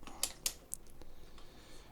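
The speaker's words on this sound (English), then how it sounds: "If you can hear a clicking, that's because I've got the ignition key, which came with the collector's edition for FS25" Clicking from an FS25 collector's edition ignition key accessory: three sharp, quick clicks close together near the start, then quieter faint ticks over low background hum, no talking.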